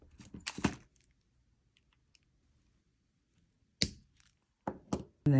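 Pliers snip off excess jewelry wire while making dangle earrings, giving a few sharp close clicks and crisp cuts in short bursts separated by near silence.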